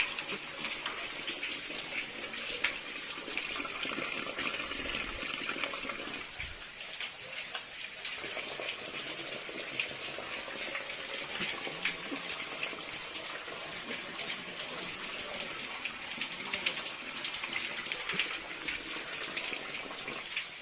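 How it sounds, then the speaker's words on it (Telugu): Water pours down from the hills beside a hidden Shiva temple in the Nallamala forest, a steady, close, full rushing gush that runs unbroken for the whole stretch with no talk. "ఇక్కడ కొండల్లోంచి అయితే నీరు అనేది ప్రవహిస్తూ ఉంటుందంట"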